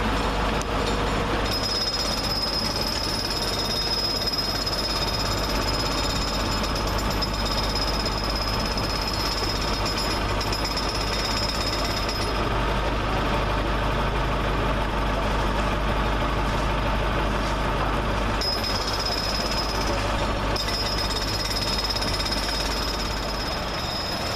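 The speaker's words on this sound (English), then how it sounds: "Just coming in to terminate from Leeds, should be 322483 or 485." Class 322 electric multiple unit, 322483 or 322485, rolling in from Leeds to terminate at Doncaster station, a steady loud rumble and whine that holds close for the whole stretch with a high tonal hum fading briefly near the end.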